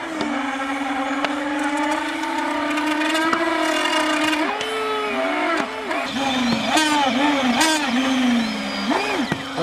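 A radio-controlled hovercraft with a gyro runs steadily, its motor or fan whine holding a constant pitch, then bending and wobbling as the craft is put into a spin and settles back to neutral.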